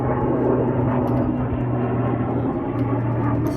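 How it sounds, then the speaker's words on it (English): A really big helicopter passes overhead, a loud, steady low droning rotor and engine roar that fills the whole stretch without fading, with no talking. "Oh, it's a really big helicopter."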